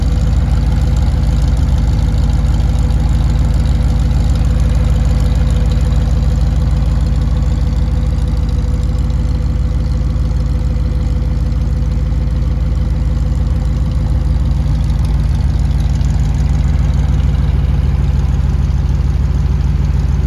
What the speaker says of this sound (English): So you can hear the engine idling right there.